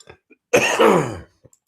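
A single loud, harsh cough bursts out close up, followed by a few faint clicks and breaths in near silence.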